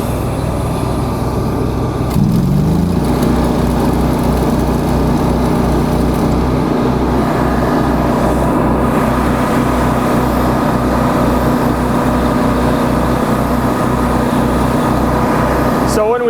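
A Lincoln Ranger 330MPX engine-driven welder drones loudly and steadily while a short weld is run, with the engine note shifting slightly as the load comes on, and people talk over the noise.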